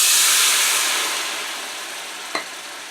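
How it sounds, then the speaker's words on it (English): A quarter cup of bourbon hits a hot pan and erupts into a loud steamy hiss that slowly fades, with a single small clink near the end, close and alone. "And in this nice hot pan, I will now add a 1/4 cup of bourbon."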